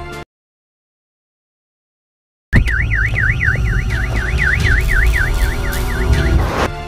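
A car alarm on Sam's yellow car in Drishyam 2 sounds after a brief silence, a loud rapid warbling whoop repeating steadily over several seconds, nearby and alone.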